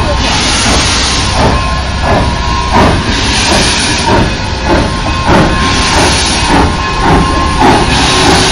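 A Durango and Silverton railroad train rumbles past nearby at a railfest with steady hiss and rhythmic clatter of wheels, loud and continuous throughout, with faint voices underneath.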